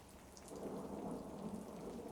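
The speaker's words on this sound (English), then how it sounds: "It's pouring down rain" Rain and thunder ambience in a tabletop fantasy campaign session, a brief quiet swell of rumbling thunder under pattering rain, lasting about two seconds with no voices.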